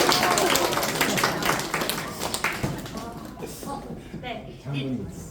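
Applause at an end-of-semester worship service at a university in Jeonju, loud group clapping that gradually thins out while voices talk over it.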